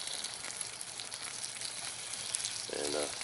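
Tortilla cooking over a campfire on a winter camping trip, steady crackling sizzle close by, continuous and fairly loud with no talk.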